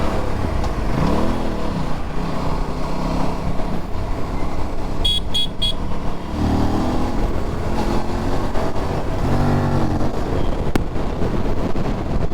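An Aprilia RS457 motorcycle being ridden, with a steady engine drone, rising revs and heavy wind rush throughout, plus a brief horn-like toot near the middle.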